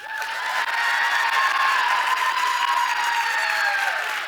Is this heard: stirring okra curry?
no